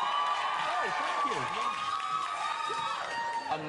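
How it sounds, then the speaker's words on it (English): A studio audience on a chat show cheers and whoops loudly, a sustained crowd roar lasting the whole moment, with shouts rising and falling and no talk over it. "A mighty cheer."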